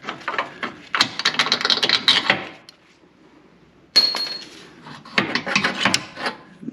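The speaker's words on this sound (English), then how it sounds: "Now I'm going to get this top bolt out." A wrench ratchets on the upper control arm bolt of a Jeep Wrangler JLU during a Clayton Off-road 1.5-inch lift install, heard close and loud as two rapid bursts of raspy clicking separated by a short pause.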